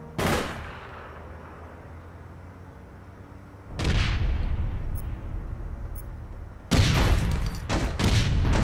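Gunfire in APB Reloaded: an opening sharp shot, then a pause, a loud burst that rumbles on, and a final cluster of rapid overlapping shots, all loud and close with no voices.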